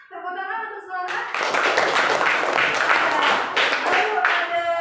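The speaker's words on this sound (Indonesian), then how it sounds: "Tepuk tangan untuk Selamat." Indonesian schoolchildren burst into group applause for a classmate, a dense, lively clatter of many hands following a brief spoken word from a teacher.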